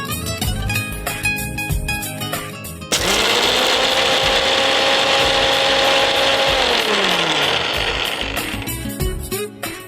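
A kitchen mixer grinds roasted peanuts toward a fine paste for palakova, its motor surging into a loud, steady whirring drone that winds down after several seconds, with clattering mechanical noise before and after.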